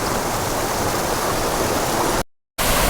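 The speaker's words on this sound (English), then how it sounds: "And yet another waterfall." Steady roar of a waterfall near Gambita, Colombia, loud broadband rush cut by a brief silent gap before resuming.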